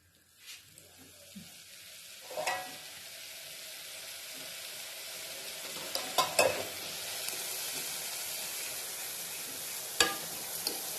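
Broad beans (avarakkai) sautéing in a pan give a steady soft sizzle throughout, broken by a few sharp spatula scrapes and taps against the metal. No one speaks.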